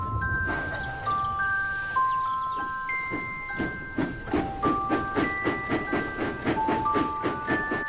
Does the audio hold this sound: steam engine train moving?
yes